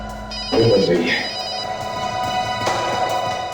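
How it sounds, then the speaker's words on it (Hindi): A telephone rings with a bright electronic trill amid a noisy room, voices talking over it. "फोन बज रही है।"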